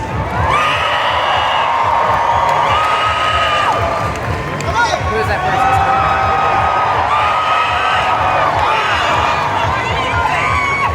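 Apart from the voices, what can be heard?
convention crowd applauding and cheering for Hobbit actors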